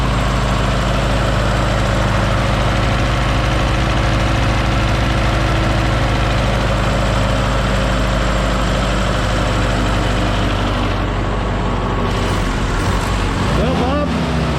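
A diesel engine in an M718A1 runs steadily and loudly up close, burning off leftover fuel with a constant low rumble, then the note dips and wavers near the end.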